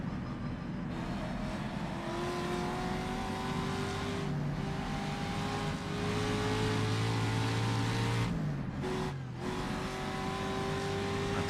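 A race car on the Isle of Man road course drones steadily at high revs, heard from on board, with the engine pitch shifting slightly through gear changes and two brief dips in the roar.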